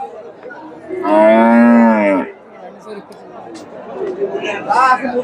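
A Friesian heifer at a crowded cattle market gives one loud, close moo lasting about a second, set against a background of market chatter and people talking nearby.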